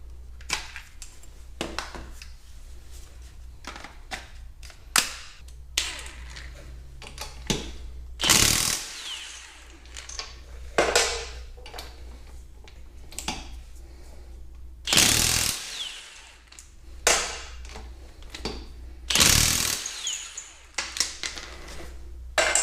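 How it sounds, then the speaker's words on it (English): A 1/2-inch impact driver hammering at frozen automotive bolts, several loud rattling bursts of repeated impacts separated by quiet pauses, with small mechanical clicks between them. "I'm going to get the 1/2 inch driver out."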